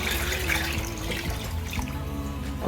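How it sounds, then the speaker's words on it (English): Water is poured from a tap into a large pot holding three pounds of charro beans, making a steady continuous gush with faint splashing, fairly close and loud, with no talking. "I'm definitely going to go ahead and add maybe 4 more cups of water."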